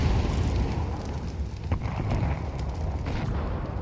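Grenades go off in a Counter-Strike match, a dense rumbling wash of blasts and crackling debris that holds loud and steady from start to end, with no clear single detonation standing apart.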